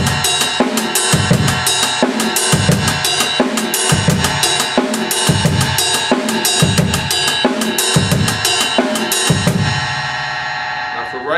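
Drum kit playing a funk groove with sixteenth-note kick doubles, crisp hi-hat and backbeat snare, loud and close, ending on a ringing cymbal wash.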